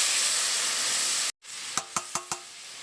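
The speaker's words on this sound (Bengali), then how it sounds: "এবারে আমি এখানে সেদ্ধ করে রাখা ডালটা দিয়ে দেবো।" A hot, steaming spice masala hisses loudly and steadily, then boiled chickpea dal goes in and the hiss cuts off, followed by four sharp, close clinks of a utensil against the pan.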